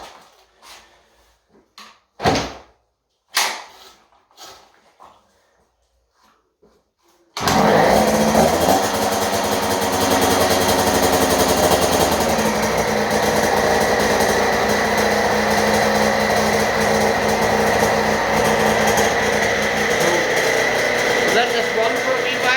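A TC50 kids' motorbike, choke on, stays quiet through a few short knocks and bumps, then its small two-stroke engine fires and runs loud and steady at a high-pitched idle, close by, for the rest of the clip.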